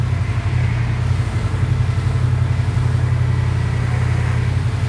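Car engine idling at a slightly raised speed, a steady close low hum with a faint even pulse that holds constant throughout, with no talk over it.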